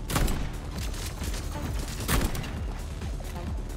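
Rapid gunfire in the video game Atomic Heart, a dense fusillade of shots with a heavier burst near the middle, loud and close throughout.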